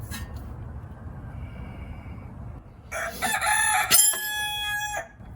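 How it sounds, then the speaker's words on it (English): A rooster crows loudly and close by, one drawn-out harmonic call rising over a low background rumble, preceded by a few quieter seconds. "All right, you stupid rooster."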